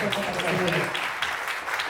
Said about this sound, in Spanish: Otra vez un aplauso.